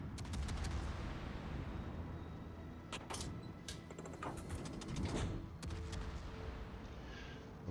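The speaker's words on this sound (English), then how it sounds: "Obviously missed with that first salvo." Main battery salvo from the Tier X battleship Schlieffen in a naval combat game, sharp cracking gun reports over a constant low engine and sea rumble, with several sudden bursts spread through the stretch and no speech.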